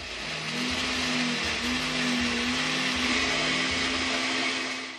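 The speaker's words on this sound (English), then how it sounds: "now we're super lazy since we've been gifted this blender, and just grind it all up." A gifted electric blender grinds ingredients aboard a boat, its motor giving a loud, steady whirring drone with slight pulsing for several seconds, with no voices.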